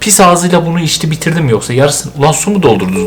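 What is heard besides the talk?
No distinct noise like a dog, phone or traffic.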